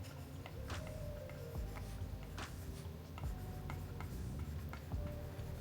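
A stylus on an iPad screen writing in a digital planner: faint, close tapping and soft scratchy strokes that repeat irregularly over a quiet background.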